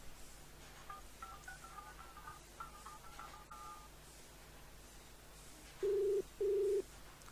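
Two short touch-tone dial beeps sound close and clear near the end as a call connects through a free calling app on a phone, after several seconds of faint, quiet background.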